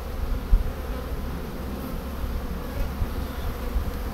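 Dense, continuous buzzing of many Buckfast honey bees on a hive frame close by, a steady low hum with occasional soft bumps.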